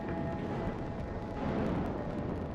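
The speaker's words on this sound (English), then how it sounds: "the flammable hydrocarbons found an ignition source, and the first explosions shook the Deepwater horizon" A deep, continuous rumbling roar of hydrocarbon explosions and fire on the Deepwater Horizon drilling rig, dense and loud throughout with low booming texture and no clear gaps.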